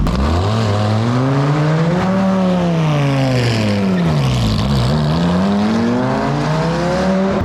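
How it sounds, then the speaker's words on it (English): A loud car engine revs hard and continuously as the car spins its tyres with traction control off, pitch rising and falling as it strains, close by, with a hissing roar over it. "That car is so loud."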